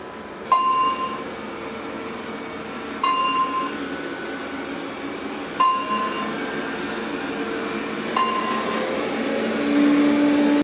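A Roborock S6 MaxV robot vacuum hums and whirs steadily, with a short beep-like click every few seconds as its power level steps up, growing slightly louder at the end.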